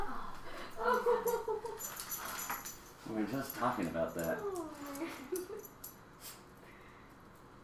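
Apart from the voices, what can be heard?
dog whimpering, stuck under a bed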